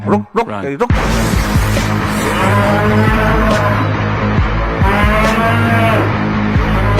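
A cartoon buffalo lets out a loud, sustained, close moo lasting several seconds, following a few sharp thuds at the start.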